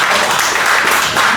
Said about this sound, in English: is that you clapping